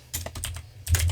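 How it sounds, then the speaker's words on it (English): Fingers type on a computer keyboard while coding a light and dark mode switcher in HTML, CSS and JavaScript: several close, crisp bursts of key clicks with short pauses between them, with no speech. "here I'll be just typing over here change theme"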